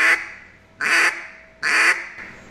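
A duck call blown close up gives three loud, evenly spaced basic quacks, each a short raspy blast with a brief pause between.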